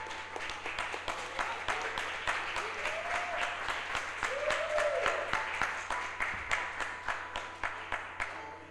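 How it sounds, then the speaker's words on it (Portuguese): A church congregation claps in steady, rhythmic applause for Jesus during a worship service, with a few voices calling out faintly over the clapping. "Dá um aplauso a Jesus."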